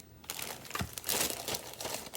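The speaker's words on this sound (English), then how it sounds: "I keep my scraps in a plastic bag" Plastic bag of paper craft scraps crinkling and rustling in short bursts, close and fairly quiet, with no talk.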